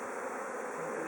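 Honeybees buzz in a dense, steady drone while a brood frame of capped brood is slid into a hive, the hum close and continuous throughout.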